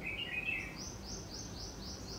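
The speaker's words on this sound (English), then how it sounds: "And I can also hear the birds." Birds chirp outside a hotel room at Jim Corbett in Uttarakhand. Faint, high, repeated tweets come at a steady pace over a soft outdoor background hiss, with no voices.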